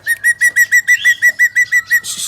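A sri gunting (drongo) kept as a master songbird calls with a quick run of about eleven clear, evenly spaced whistled notes, close and loud, ending in a brief burst of hiss.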